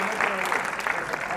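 Audience applause, a brief burst of dense clapping heard over a live show, with voices mixed in underneath.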